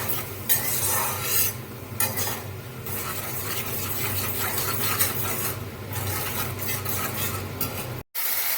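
Spices with slit green chillies and salt are stirred and sautéed in a pan for chana dal, a constant scraping spatula rhythm over a steady sizzle, close and loud, with a brief cut near the end.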